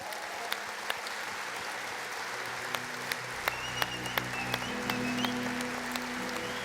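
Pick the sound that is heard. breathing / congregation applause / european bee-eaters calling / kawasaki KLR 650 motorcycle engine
congregation applause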